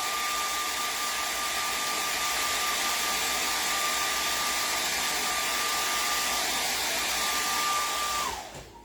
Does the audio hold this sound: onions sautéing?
no